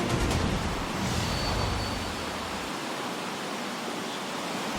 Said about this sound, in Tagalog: Walang humpay ang malakas na buhos ng ulan sa malaking bahagi ng Luzon.